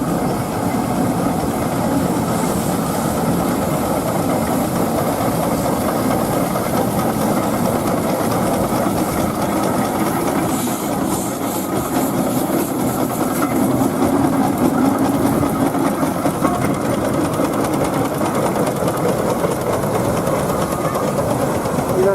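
Steam engines lining up for the grand parade at a steam rally, a continuous mechanical chuffing and clattering hum across the showground, steady and moderately loud throughout with no clear speech over it.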